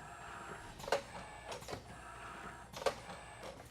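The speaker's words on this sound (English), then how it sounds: "let's go ahead and put the press into production. We're printing, flooding in the down position, and printing" An automatic S Roque screen printing press runs shirts with water-based ink, giving a few sharp mechanical clacks and whirs at irregular intervals over a steady low machine hum.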